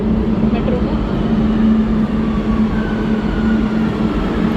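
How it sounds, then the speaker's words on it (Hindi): A metro train in Barcelona, Spain, running with a steady, loud rumble and a sustained low hum inside the carriage, continuous throughout. "स्पेन की मेट्रो भी अपनी दिल्ली मेट्रो जैसी है भाई, कोई ज़्यादा फ़र्क नहीं है"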